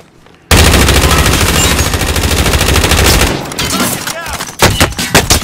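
Automatic gunfire in the video game Call of Duty: Warzone, a very loud, close, sustained stream of rapid shots lasting about three seconds, then scattered bursts and impacts while voices call out.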